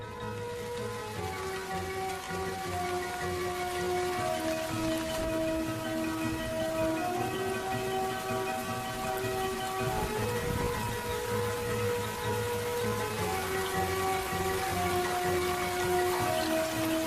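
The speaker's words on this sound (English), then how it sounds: "bringing the most precious gift of all, rain" Storm rain falls across the arid interior of central Australia, a steady dense patter heard alone under a layered tonal backdrop.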